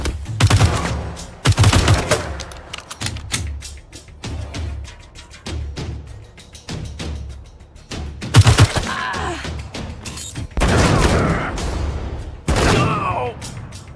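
Suppressing gunfire in the video game Wasteland 3 sounds as loud bursts of automatic shots and heavy impacts in quick rhythmic volleys, with shouted game voices between bursts.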